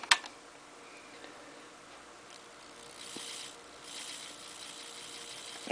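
A repowered Tenshodo HO brass 0-8-0 model locomotive with a new motor, drive line and gearbox runs on the bench, giving a faint, steady mechanical whir with light ticking after a sharp click at the start.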